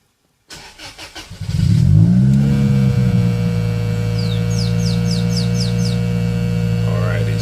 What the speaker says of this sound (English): So the car should start since it's on its factory ECU